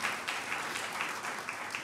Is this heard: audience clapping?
yes